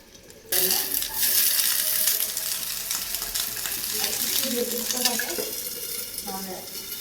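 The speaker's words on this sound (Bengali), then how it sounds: "কাঁচা মরিচটা ফ্রাই করে নেব" Green chillies dropped into hot oil, bursting into a loud, crackling sizzle that starts abruptly and keeps spitting steadily, with a few scraping stirs and light voice in the background.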